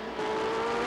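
A midget race car motors down the back straight at Barrie Speedway during a 1984 feature race, its engine a steady, loud, close drone with a sustained tonal whine and no break.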